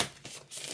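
A Housewife's Tarot deck is riffled in a quick shuffle, giving a short, dense flutter of card edges close by, lasting under a second with no talk.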